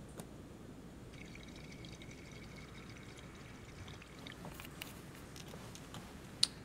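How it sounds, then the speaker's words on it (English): Canteens being refilled with water in the video game Life is Strange 2: a steady low pouring wash runs throughout at moderate level, with a few small clinks and taps near the end. "Refill canteens."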